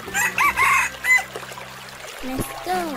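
A rooster crows and clucks in short bursts, fairly close and loud, with a few chicken clucks and a rising squawk near the end amid light background noise.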